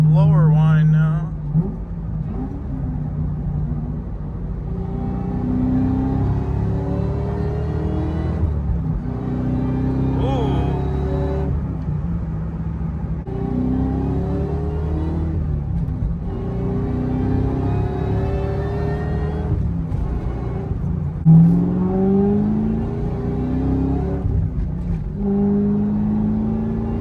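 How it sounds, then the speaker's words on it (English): A 2003 Mustang Cobra with a supercharger and a JLT cold air intake runs steadily, with a droning engine note. A thin blower whine rises and falls as the revs change, close and continuous throughout. "we'll definitely hear some blower whine now."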